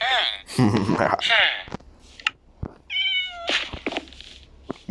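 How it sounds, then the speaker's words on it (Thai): A cat in the Minecraft video game meows several times in quick succession, loud and close, while a voice talks around the meows. "แมว"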